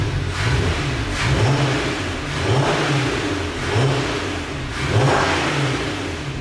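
A VW Passat R36 engine runs rough with misfires, its low exhaust note surging and sagging in an uneven rhythm, loud and close, with bursts of hiss and rattle over the top.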